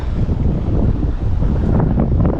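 Strong wind by the water on a snook and bass fishing trip buffets the microphone in a continuous loud low roar with no speech.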